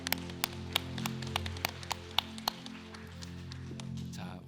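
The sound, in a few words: church congregation applause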